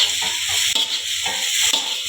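Egg noodles sizzle and hiss in a hot pan as they are stirred, a continuous close frying sound with faint scraping strokes and no talking.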